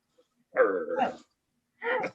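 A dog gives two short vocal bursts, a longer bark-like yelp followed by a brief second one after a pause, close and clear against an otherwise quiet background.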